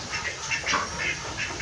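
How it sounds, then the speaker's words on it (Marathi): Ducks on a village farm quack in short, rasping bursts, several calls overlapping at moderate distance over a steady outdoor hiss. "बदक कुठे गेले? इकडे आहे ना"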